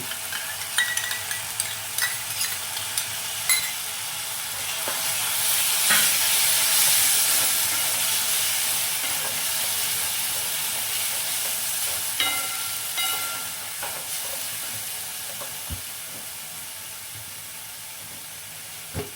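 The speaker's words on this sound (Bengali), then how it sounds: "কষিয়ে নিতে হবে, যতক্ষণ না এর থেকে তেল বেরিয়ে আসছে।" Masala for a pointed gourd and prawn curry sizzles in a pan as yogurt is stirred in, a steady close hiss punctuated by scraping stirs, with no talking.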